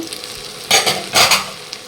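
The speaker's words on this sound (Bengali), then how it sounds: "আর এদিকে কুদ্রু ভাজা করছি" Ivy gourd fries in a pan: two short, loud bursts of sizzling and stirring over a quieter hiss.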